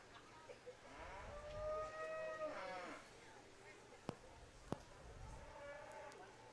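A cow moos repeatedly during a beef showmanship class at the DeKalb County fall fair, its long harmonic calls rising over crowd murmur, followed by a couple of sharp knocks.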